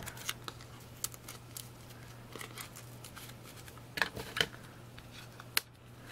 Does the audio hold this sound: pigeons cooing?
no